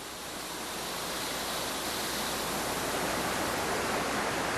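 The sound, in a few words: waterfall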